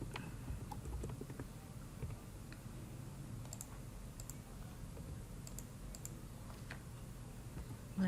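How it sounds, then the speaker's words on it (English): Quiet keystrokes and clicks on a computer keyboard, scattered light taps over a soft steady background hum, close but faint, with no one speaking. "and then click again, and then type in 180"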